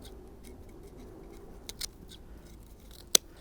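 Scissors snip shriveled dead bits off dahlia tubers being potted up, giving a couple of soft, close cuts and one sharp, brief snip against a quiet background with no talking.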